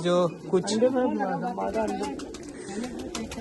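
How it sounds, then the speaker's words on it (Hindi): Old-breed pigeons kept by a pigeon fancier in Machhlishahr coo softly in the background while someone talks over them. "150 साल के करीब पुराने कबूतर परवर हैं महमूद चाचा हमारे"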